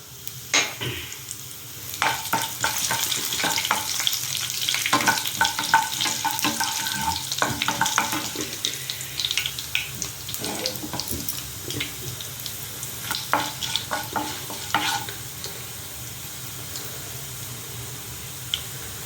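Coriander seeds, cumin and dried red chillies sizzle in hot oil for a mint tomato chutney, a close, steady frying hiss broken by scraping stirs and clinks of the spoon.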